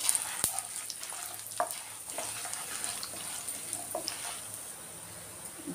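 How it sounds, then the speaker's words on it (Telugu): Peanuts frying in tempering oil for pulihora sizzle at a low, steady level in a pan, with occasional stirring scrapes and clicks and no speech. "పల్లీలు వేసుకుని ఒకసారి బాగా వేగనిద్దాం"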